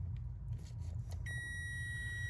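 A steady high-pitched electronic beep from a Ford E-250 van's wiring, with a brake and tail light fault, switches on partway through and holds, over a low idling vehicle hum.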